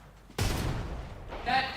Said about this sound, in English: Good shots by our team right now.